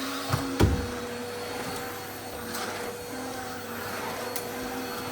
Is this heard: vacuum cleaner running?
yes